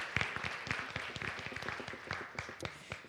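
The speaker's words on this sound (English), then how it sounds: "So I just want to give her a round of applause for that." A modest round of applause from a forum audience for a volunteer translator: sparse, distinct claps, fairly quiet and brief, with no talking over it.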